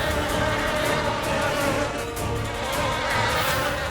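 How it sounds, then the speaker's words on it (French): Bees buzz steadily from a hive beside a window, a dense continuous drone that stays close and loud for the whole stretch without a break. "Mais que fait ce nid d'abeilles près de notre fenêtre?"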